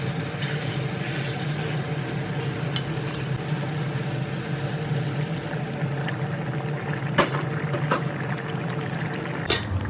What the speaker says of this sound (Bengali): এর মধ্যে ঝোলের জন্য ব্যবহার করব পরিমাণ মতো গরম জল